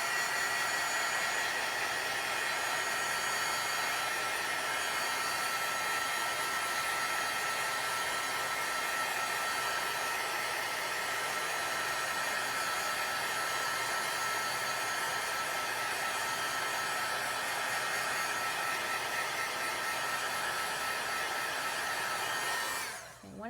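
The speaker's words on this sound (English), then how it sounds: "So we're going to take the heat tool and dry it." A heat tool drying pigment ink on paper for embossing, a loud steady blowing roar close to the microphone that runs unbroken for over twenty seconds, then switches off at the end.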